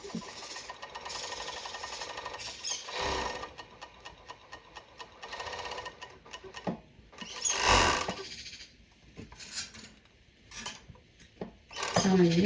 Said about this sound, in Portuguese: É difícil a gente costurar no overlock sem tirar uma beiradinha